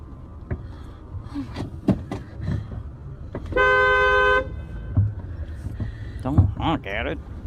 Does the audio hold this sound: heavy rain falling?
no